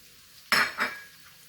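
Chopped zucchini, tomato and corn tumble into a hot frying pan with a sharp clatter, followed by a second scrape as they are stirred and tossed, brief and close with a faint sizzle.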